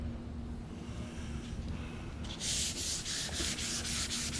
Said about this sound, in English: So I'm getting ready to get started sanding on it.